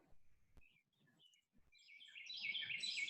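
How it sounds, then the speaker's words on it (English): Quiet room with a few soft knocks and thuds, then high bright birdsong rises and continues near the end. "Oh, the birds sound so nice."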